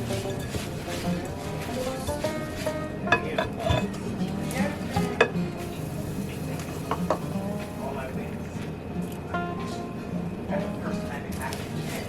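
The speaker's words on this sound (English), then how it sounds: "I'm going to mix this together" Ingredients are stirred together in a bowl, with a spoon clinking and scraping in an irregular rhythm, close and moderately loud, alongside scattered kitchen clatter.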